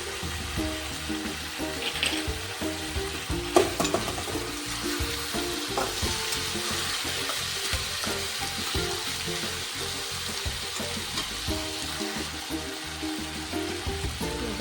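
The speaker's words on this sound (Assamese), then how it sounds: "এতিয়া একেলগে লাহে লাহেকৈ লৰাব লাগিব যাতে মাছকেইটা ভাজি নাযায়" Small fish sizzle in a pan while being stirred, with a continuous soft frying hiss and repeated low scraping and knocking of the spatula in a gentle rhythm, moderately quiet and without speech.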